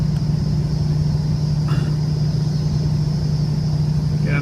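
A truck engine rumbles steadily at close range while driving through water about 400 mm deep, a constant low hum with a faint wash of water and a brief rattle midway.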